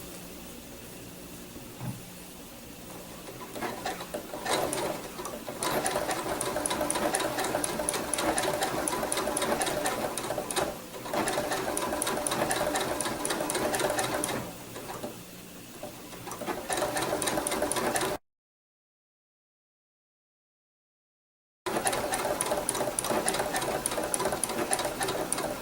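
A sewing machine runs steadily while blanket-stitching binding onto a quilt, a close, continuous whirring hum with brief slowdowns, then a short full stop before it starts up again.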